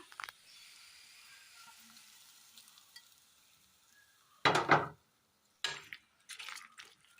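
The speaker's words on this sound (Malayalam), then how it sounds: "ഇതിലേക്ക് കടുക് താളിച്ചത് ചേർത്ത് കൊടുക്കാം." Tempered mustard seeds hit a hot pan in a short, loud sizzling burst, followed by a few brief crackling spurts of stirring after a quiet stretch.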